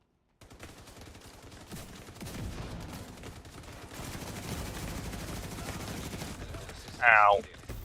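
Shotgun fire in the Division 2 video game, a dense crackle of game gunfire and combat noise running throughout, with a single louder burst near the end standing out from the steady background.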